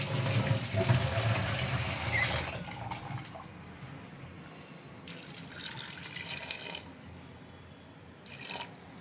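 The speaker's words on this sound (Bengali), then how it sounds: "এখন পানি দিয়ে সিটি দিব প্রেশার কুকারে" Water poured into a pressure cooker while making tikka kebab, a steady broadband splashing rush that is loudest at first, then fades to a quieter trickle with two brief later bursts.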